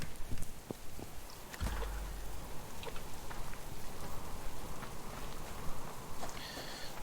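Steady outdoor rainfall patters on surfaces in a dense, even hiss, with a few louder drips and knocks scattered through, fairly faint and with no speech.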